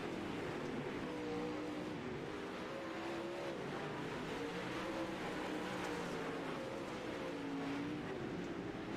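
Dirt track race cars race at Kokomo Speedway, with several engines blaring in a dense, continuous roar and pitches that swell and waver as the cars run close together.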